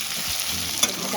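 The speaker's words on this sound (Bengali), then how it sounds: "আদা রসুন বাটাটা একটু কষিয়ে নিতে হবে" Ginger-garlic paste sautés in a pan for a loitta dried-fish curry with eggplant and beans, giving a brief, soft sizzle with a light stirring knock.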